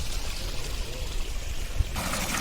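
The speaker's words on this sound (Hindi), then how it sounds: "ये जो आप देख रहे हैं पानी बहता हुआ आ रहा है, ये गर्म पानी है जो कुंड की तरफ से ही आ रहा है।" Hot spring water from the kund streams past on the Kheerganga trek in Himachal Pradesh, a loud, continuous rushing flow heard close up with no voices over it.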